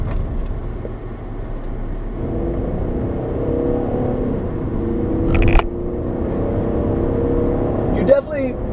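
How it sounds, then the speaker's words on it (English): A 2013 Chevrolet Impala 1LTZ engine accelerating, a steady low hum and drone building under the cabin, with a couple of brief sharp knocks partway through; a voice is faintly present. "That is a good sounding motor."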